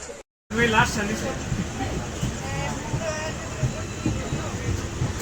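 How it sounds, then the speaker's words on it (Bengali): A passenger train pulls out of Madgaon Junction on the Goa to Mumbai route, a steady rumble of wheels and carriage noise heard from inside the coach, with a brief dropout near the start and chatter from other passengers throughout. "ফাইনালি ট্রেন ছেড়ে দিয়েছে আমাদের"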